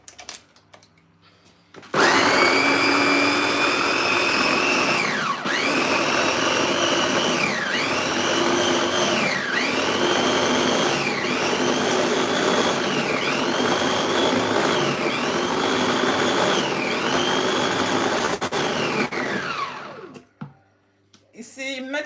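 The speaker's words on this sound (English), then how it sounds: "this blender makes cooking so easy" A kitchen blender blending vegetables roars loudly and steadily for about eighteen seconds, its pitch dipping and recovering in a regular pulsing rhythm as it churns, then winds down.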